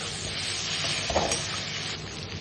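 Onions and potatoes fry in a pan for an egg curry, a close continuous sizzle with a soft scrape of stirring in the middle, no speech.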